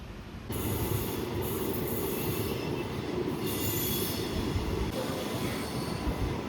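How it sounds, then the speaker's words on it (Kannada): Kuvempu Express on the Shivamogga–Hassan–Mysuru route rounding a curve, wheels squealing in sustained high-pitched screeches over a continuous loud rumble of railcars rolling on the track. "ನೋಡಿ ನಮ್ಮ ಟ್ರೈನ್ ಯಾವ ರೀತಿ ಕರು ಹೊಡಿತಾ ಇದೆ"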